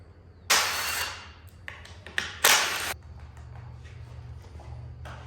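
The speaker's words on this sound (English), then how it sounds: "nothing like taking a new fork bolt out" Tools work loose a new fork bolt on a CRF125 motorcycle during a fat tire conversion: two harsh bursts of rattling noise are separated by sharp metallic taps and clicks, close and fairly loud, over a low background hum.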